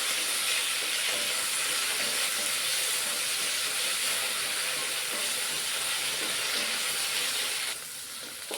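Okra frying in a pan gives a steady, close, hissing sizzle that runs unbroken for several seconds and then drops slightly quieter near the end, with no voices.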